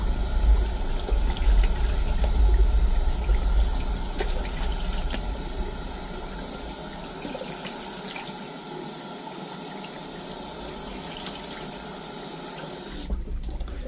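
Hot water runs steadily from a tap into a sink in a home bathroom, a loud continuous rush that softens a little partway through and changes sharply near the end.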